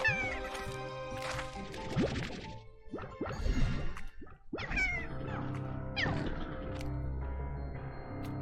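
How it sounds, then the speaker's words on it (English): Repeated cute cat meows from Slime Rancher 2 rise out of gentle game music and ambient tones, several distinct calls spread across the stretch, clear and close with no voices. "They really added to the cat sound effects."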